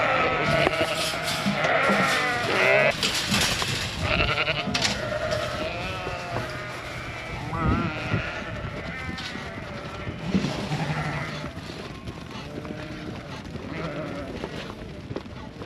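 Lambs and sheep bleat on a farm at weaning time, many overlapping calls from near and far in a dense, continuous chorus with no talk.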